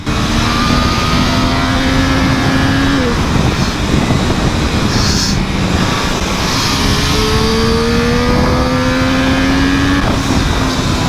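A Triumph Street Triple 765 motorcycle ridden fast: a loud, close engine note climbs steadily, drops at each gear change and climbs again, under heavy wind roar.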